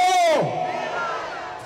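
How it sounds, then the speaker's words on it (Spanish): A parade crowd gives the Mexican independence cry, a loud, long rising-then-falling shout from many voices that fades into a sustained crowd roar. "iniciando con el famoso grito de la independencia de México"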